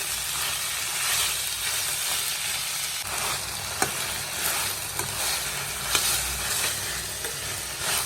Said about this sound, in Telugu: ఇది బాగా వేగితే చాలా టేస్టీగా ఉంటుంది అన్నమాట వేగించాలి